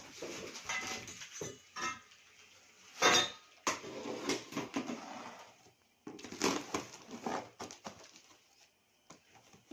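A new steel pressure cooker and other utensils from a 30-piece kitchen set are handled, giving scattered close metallic clinks, knocks and clatters separated by brief quiet gaps, with no talking.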